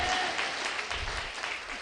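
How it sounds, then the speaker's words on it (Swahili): A church congregation at Synagogue church in Kasarani claps together during a service, producing dense, steady applause that stays loud and even for the whole stretch. "Pigia Bwana makofi mazuri."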